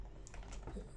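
Fingers typing on a computer keyboard to enter footer text, a short run of soft, close key taps over a steady low background hum.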